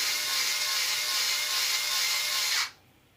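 Power driver whirring a screw into a carbon fibre radio tray on a Hobao Hyper VS nitro RC car, a steady high-pitched whine that runs for a few seconds and then cuts off abruptly.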